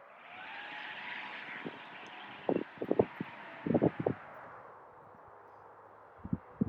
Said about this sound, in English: It is a rather windy day today, at least breezy, and I'm hitting into the wind here.